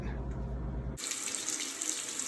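Water heater pressure relief valve opens and releases water: after a low hum, a sudden bright, steady rush of spraying water begins about a second in and continues close and fairly loud.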